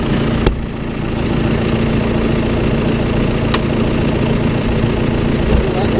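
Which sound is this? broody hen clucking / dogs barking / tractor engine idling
tractor engine idling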